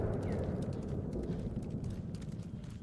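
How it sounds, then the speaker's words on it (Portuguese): Horse galloping slowly in Ghost of Tsushima, a steady rumble of hoofbeats with low, dense thumping throughout, close and continuous, no talk. "O cavalo tá correndo devagar, já tadinho aí."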